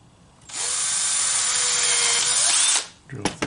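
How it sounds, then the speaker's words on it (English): A power drill whirs loudly for about two seconds at steady speed, then winds down, followed by a few light clicks and knocks. "We're going to drill through here."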